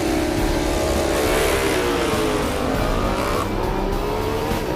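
Racing engines roar continuously during the Pikes Peak International Hill Climb, loud and dense throughout, with a rising engine tone partway through and no voices.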